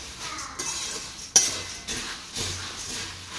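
Puffed rice being stirred into a homemade chivda snack mix with chili powder and salt, giving soft scraping and rustling with a sharp metallic clink near the middle, then quieter repeated stirring strokes.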